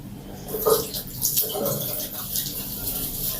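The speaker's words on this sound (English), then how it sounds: "Just wash my hand." Tap water runs steadily into a basin as hands are washed with soap under it, splashing close by in a continuous rush with brief louder surges.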